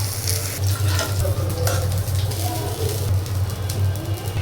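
Chicken pieces sizzle steadily in hot oil for a Bengali-style chicken roast, a constant loud crackle with a low hum underneath and no talking.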